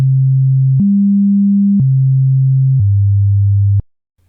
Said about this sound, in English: These are the Tartini tones, or combination tones.